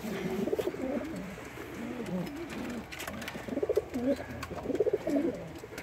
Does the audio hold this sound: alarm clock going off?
no